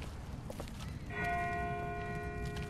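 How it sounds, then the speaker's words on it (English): A distant church bell in The Walking Dead video game strikes once and rings out with a long, sustained hum over faint outdoor ambience, with no talking. "That's not the same bell as before. This one's further off."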